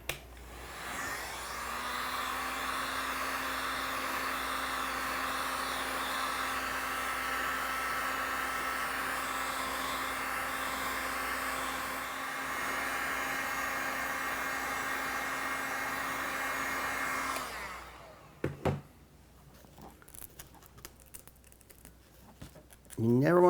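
Heat gun or hair dryer warming the battery adhesive inside an iPad 2 WiFi during a repair, a steady close whining blow for about seventeen seconds that cuts off abruptly, followed by light handling noises.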